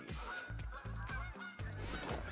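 Bean geese in a hunting video game give a rapid series of loud, close honks that overlap in an irregular flock chorus, with no talking.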